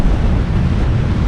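Sea waves churn during a ferry crossing from Lochranza to mainland Scotland, heard as a loud, steady wash heavily buffeted by wind against the microphone, with no talk.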